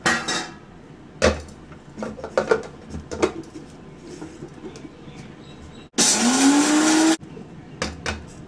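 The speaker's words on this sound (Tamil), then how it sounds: "இது ஃபர்ஸ்ட் நம்ம கொஞ்சம் ஒரு சுத்து விட்டு நம்ம அரைச்சி எடுத்துட்டு வந்துடலாம்." A mixer grinder blending mutton salna spices gives one short, loud whirring burst of about a second, with a rising motor pitch, between scattered clinks and clatter of kitchen utensils.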